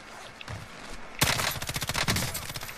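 Warzone battle-royale gunfire: after a quiet lead-in, a fast burst of rapid automatic shots breaks out, rattling on as a dense run of sharp reports, fairly close.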